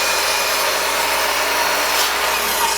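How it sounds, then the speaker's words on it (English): A miter saw cuts through sections of wood, a brief, steady, loud blade whine with no pause. "Next up, I'm going to use the miter saw to cut out each of these sections."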